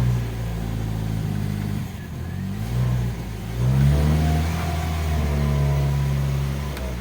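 A 1980 Ford Fiesta, started after months of standing, revving its engine close by, droning hum rising and falling through several blips of throttle with no talking.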